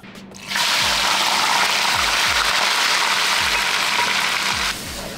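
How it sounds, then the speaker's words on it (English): A loud, steady sizzle of blended spice paste (rempah) frying in hot cooking oil starts abruptly and hisses evenly, with faint low thumps underneath, then drops slightly at the end. "now we're going to start frying off our blended ingredients"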